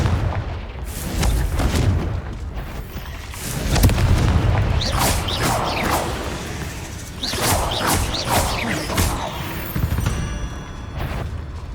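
Confringo blasting spells explode in a spider den in the game Hogwarts Legacy, loud booming blasts with whooshing tails and crackling debris layered over low rumbling ambience.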